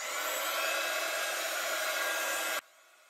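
A heat embossing gun blows hot air in a steady, loud whoosh close by for a few seconds, then switches off abruptly.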